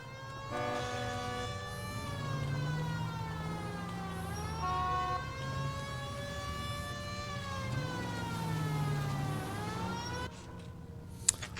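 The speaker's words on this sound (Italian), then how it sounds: "C'è già la macchina della polizia." A police car siren from the video game L.A. Noire wails steadily up and down, rising and falling in long sweeps through the whole stretch at moderate level with no talk.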